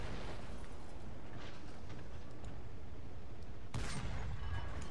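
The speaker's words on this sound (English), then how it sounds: "Being hit by that artillery." Artillery fire strikes a tank in a video game, a dense continuous rumble of blasts ending in a sharp, louder explosion near the end.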